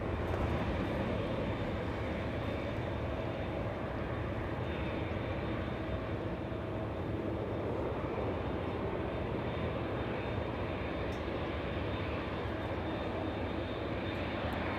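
An Air Tahiti Nui airliner at LAX airport produces a sustained, even jet-engine rumble, loud and unbroken for the full stretch with no talk over it.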